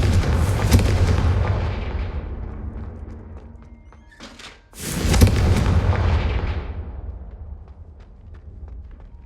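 Confringo spell explosions in Hogwarts Legacy boom loudly, with one heavy blast fading over a few seconds, then a sharp second burst that rumbles and slowly dies away.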